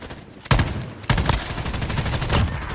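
Gunfire in Call of Duty: Modern Warfare: several loud, close bursts of rapid shots crack out in quick succession over a noisy battle backdrop, with no talking.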